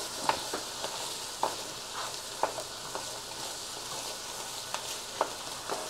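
Food fries in a pan while being stirred, a constant soft sizzle punctuated by regular sharp clicks and scrapes of the utensil against the pan, close and without talk.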